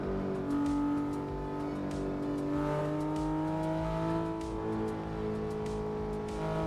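A car engine in the racing game Assetto Corsa drones continuously at high revs, its pitch climbing and dipping smoothly as it accelerates and shifts, loud and close with no voices.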